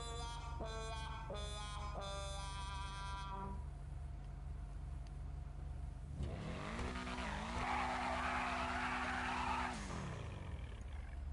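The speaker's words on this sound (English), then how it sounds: "Oh yeah, the engine sound is deeper." Grand Theft Auto V car sounds: a loud sustained engine drone with harmonic revving, then a long squealing tire skid rising and falling before easing off, all close and continuous with no talking.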